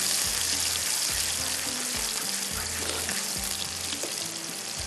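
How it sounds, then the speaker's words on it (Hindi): Onions fry in hot oil until brown for Kashmiri dry fruit rice, a steady loud sizzle with occasional stirring scrapes and a low hum underneath, continuous and close with no talking. "इसको प्याज को ब्राउन करने रखा है"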